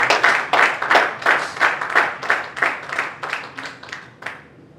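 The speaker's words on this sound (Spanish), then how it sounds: "Hay un aplauso" Church congregation applauding during a worship service, a rhythmic, unified clapping in steady beats that gradually softens and stops near the end.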